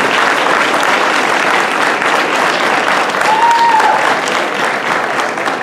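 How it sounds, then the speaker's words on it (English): Loud, sustained applause from high school graduates at a 2018 graduation ceremony, directed at their standing supporters, a dense even wash of clapping with a faint whistle partway through. "just the graduates give a round of applause to those people that are standing"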